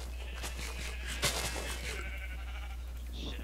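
Sheep bleating in Minecraft, a few short bleats over a steady low hum from the game, with no voices in between.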